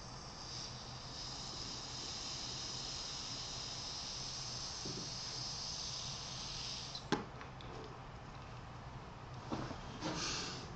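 A vaper draws on a polished Zenesis atomizer with a 350 mesh and pure VG Gorilla Juice, producing a long, faint, steady hiss that ends and is followed by a few soft clicks.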